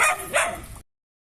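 Dogs at an animal shelter give a short burst of barking, one or two close yips before the sound cuts off abruptly into silence.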